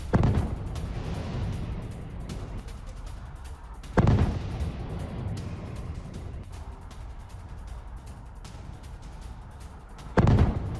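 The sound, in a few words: Patriot PAC-3 air defense interceptor destroying a cruise missile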